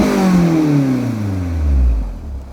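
A Honda S2000 track car engine winds down from a loud rev, its tone falling smoothly and then swelling slightly again, close and dominant with no talking.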